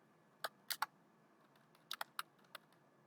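Keys on a computer keyboard are tapped in short clusters, including presses of the Tab key, with crisp clicks spaced irregularly against a quiet room and no voices.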